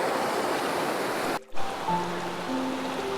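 Steady rushing water fills the clip, a broad continuous roar like a nearby waterfall, briefly cut out once midway.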